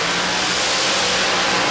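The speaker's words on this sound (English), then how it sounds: "the sound of a supercharged car is a beautiful thing" A supercharged drag racing car engine revving at a raceway during qualifying, a loud, dense, roaring blast that stays close and constant through the short burst.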